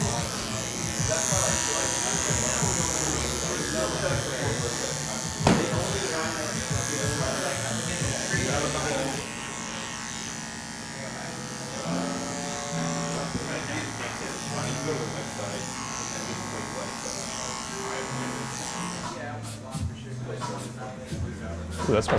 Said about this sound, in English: I'm using this clipper over comb technique, and like, I love this this finer tooth clipper comb from Oster